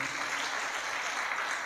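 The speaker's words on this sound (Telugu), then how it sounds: "చప్పట్లు కొడతారు ఆ మాట కన్నా?" Audience at a youth Christmas church gathering applauds in a steady, moderately loud round of clapping that fills the space without pause.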